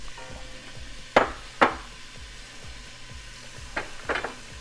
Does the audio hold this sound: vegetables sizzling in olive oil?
yes